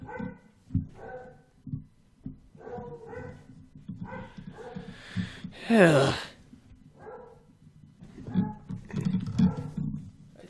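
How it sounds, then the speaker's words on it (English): Dogs barking outside in bursts of sharp woofs with some yips and whimpers, moderately distant, while someone talks quietly over a video game at times. "It's just dogs overreacting or something."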